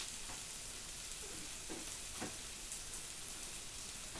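Onions frying in a pan give a continuous dense crackling sizzle, steady and moderately loud, with a few faint scrapes and knocks underneath and no voices.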